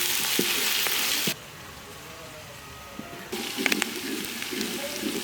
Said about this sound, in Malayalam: ഒരു 10 പച്ചമുളക് എടുത്തിട്ടുണ്ട്. 2ആയിട്ട് കീറിയതാണ്. ഒരു ലേശം കറിവേപ്പില. ഇതെല്ലാം കൂടി ഇട്ട് ഒന്ന് ഇളക്കി കൊടുക്കണം നല്ലപോലെ.